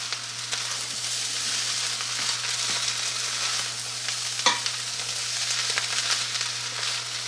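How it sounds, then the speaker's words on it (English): Rice sizzles in a hot non-stick wok over high heat with a steady frying hiss, occasional scrapes and clinks of stirring, a low hum running underneath throughout. "At high heat, go ahead and give this one final last stir."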